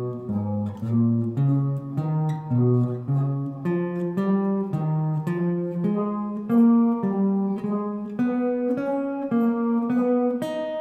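A jazz guitar plays a sequence of thirds going up and down, clean plucked two-note patterns moving steadily in pitch, close and clear without any talking.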